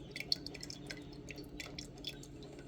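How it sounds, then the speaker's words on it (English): Rendered pig lard dripping through a filter as the cracklings are strained out, giving a steady scatter of small, close drips over a low background hum. "we are filtering the cracklings out, and what we have left is lard."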